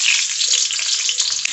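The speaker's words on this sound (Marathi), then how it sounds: "कढई गरम झालेली आहे, आपण त्याच्यात तेल टाकून घेऊयात" Oil and butter sizzle in a hot kadhai for a dhaba-style green peas dish, a close, steady crackling hiss with no pauses.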